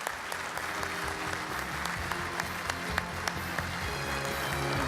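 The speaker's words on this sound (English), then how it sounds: "Can we give them a round of applause?" Applause at an awards night for staff marking 25 to 29 years of service, fairly quiet clapping from a large room with a continuous patter and a few sharper claps standing out, and background music humming underneath.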